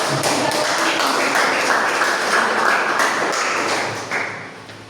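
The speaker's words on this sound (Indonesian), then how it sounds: "Tepuk tangan dulu" Classroom applause during a Christian religious education lesson, a steady loud patter of many hands clapping together that fades out near the end.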